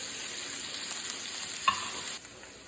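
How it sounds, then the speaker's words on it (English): Onions, garlic and hot green chilies sizzle steadily in a pan over medium-high heat, a soft continuous fry with a few light scrapes and clinks of stirring, close and fairly quiet, no talk. "I've been stirring this on medium-high heat for about 3 minutes."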